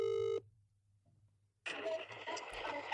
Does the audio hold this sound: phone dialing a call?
yes